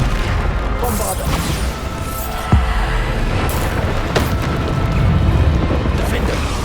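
A Bombarda spell explodes in the video game Hogwarts Legacy, a booming blast within a dense, loud wash of battle noise, with one sharp impact standing out midway.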